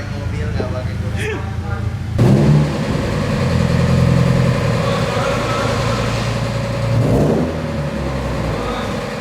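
A car being deep-cleaned runs its engine while it is moved, a steady mid-pitched hum that rises briefly in revs near the start and again later, with talk over it.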